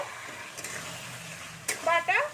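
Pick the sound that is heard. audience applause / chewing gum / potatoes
potatoes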